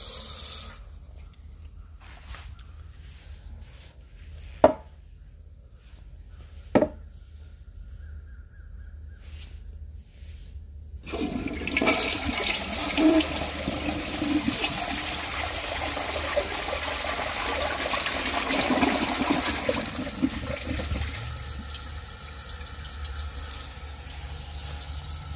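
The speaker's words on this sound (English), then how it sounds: "A very beautiful toilet with an awesome flush." A blue 1977 Kilgore Apex toilet flushing. Two sharp clicks come first, then a loud rushing surge of water that runs for about ten seconds before easing into a quieter trickle of refilling, with no talk.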